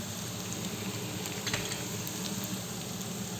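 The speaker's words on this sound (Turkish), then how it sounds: "Soğanımız biraz kavrula dursun." Steady sizzling of onions frying in olive oil in a pan, a continuous frying hiss with no talking.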